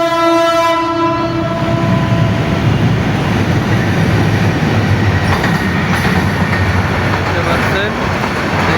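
A fast passenger train near Banani and Mohakhali in Dhaka blares its horn loudly for the first few seconds, then roars past up close with a heavy, continuous rumble of wheels and carriages.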